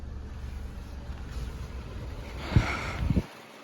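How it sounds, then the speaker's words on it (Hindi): Tata Punch hatchback with about 45,000 km on it, engine idling: a steady low rumble runs throughout, with louder rough bursts near the end before it cuts off abruptly. "और ये इसका इंजन का नॉइज़ है"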